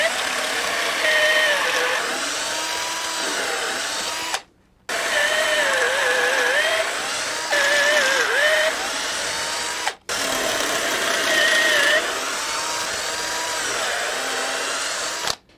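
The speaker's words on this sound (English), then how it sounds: "We're going to put some pocket holes in, attach that to this base." Power drill boring pocket holes in 1x4 wood boards, three long close whining bursts separated by brief silent pauses, with motor pitch wavering under load.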